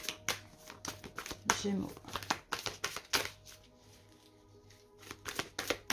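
Guardian angel tarot cards are shuffled in quick papery riffles and crinkling bursts, close and fairly quiet, while someone talks over them.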